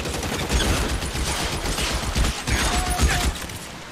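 Rapid gunfire from a shootout in the video game LA Noire, a dense continuous fusillade of shots layered over each other, loud and sustained throughout.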